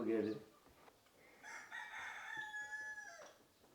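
A rooster crows once, a long drawn-out call that rises and then holds steady, heard fairly clearly outdoors after a brief noisy start, with faint background noise.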